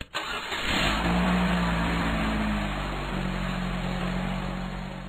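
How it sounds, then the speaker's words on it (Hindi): A car engine starts with a sharp crank, then idles and revs as the vehicle pulls away, a steady mid-pitched hum with a rising tone, close and alone, used as a horror story sound effect. "रवि कांपते हुए गाड़ी वहाँ से आगे बढ़ा लेता है"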